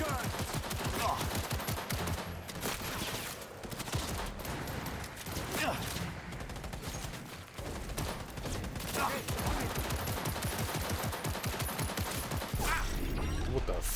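Heavy weapons firing in the Cyberpunk 2077 video game: rapid sustained bursts of gunfire, dense and continuous for many seconds, with brief pauses between volleys.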